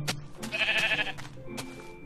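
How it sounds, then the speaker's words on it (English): A sheep bleats in the Minecraft video game, one wavering nasal call in the middle of the clip, close and clear with no voices over it. "Yes, hello there, sheep."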